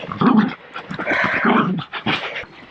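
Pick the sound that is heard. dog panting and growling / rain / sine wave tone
dog panting and growling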